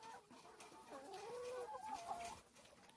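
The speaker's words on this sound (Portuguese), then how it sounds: "a gente está aproveitando e dando para as galinhas" Farmyard chickens cluck and murmur while being fed milk and feed, a faint, fairly distant flock with soft overlapping clucks and no talk.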